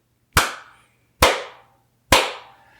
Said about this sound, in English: do your clap test